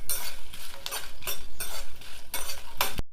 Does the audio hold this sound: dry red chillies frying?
yes